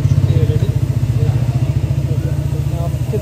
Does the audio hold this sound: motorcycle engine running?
yes